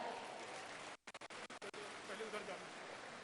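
Dense, loud clapping from an audience welcoming the Chief Minister at a ground-breaking ceremony for primary health centres in Panna, briefly broken by a few short gaps before continuing steadily.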